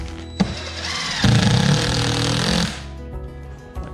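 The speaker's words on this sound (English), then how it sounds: "So I need to now screw the scab board into the stud here." Power drill driving a screw through a scab board into a wall stud, a loud close motor whir lasting about two seconds that rises in pitch and then cuts off, with no talking.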